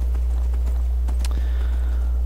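A horse's hooves clop along in the Skyrim video game, a steady rhythm of distinct, sharp hoofbeats over a strong, constant low hum.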